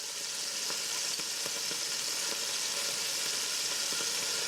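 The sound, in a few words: beef browning and sizzling in a pan for stew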